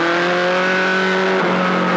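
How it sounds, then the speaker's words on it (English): A racing car engine roars loud and close as it accelerates out of a slippery corner, pitch climbing steadily through a gear before a brief shift and a renewed pull. "Accelerating again up to 90 miles an hour"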